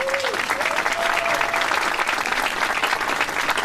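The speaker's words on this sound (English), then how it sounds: "give them a round of applause" A concert audience applauds senior band members at a spring concert, a steady, full wash of clapping that fills the room from start to finish, with a brief whistle near the start.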